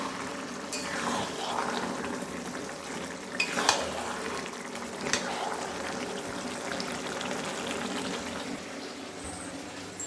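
Taro simmering with fish head in a pan, reducing its liquid, gives a steady low bubbling and sizzling with a few clinks of a utensil against the pan, moderately close and without talk.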